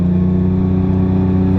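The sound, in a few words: 1000hp 9ff Porsche Turbo engine accelerating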